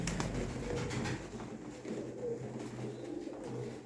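Birds calling with a few soft, clear notes over a steady murmur and low rumble, with no speech, heard up close among birds kept for sale.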